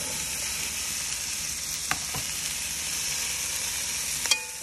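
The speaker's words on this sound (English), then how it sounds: "Next, you drop in your sausage." Sausage dropped into garlic-infused olive oil in a pot sizzles and fries steadily, a constant loud hiss with a few faint clinks of utensils.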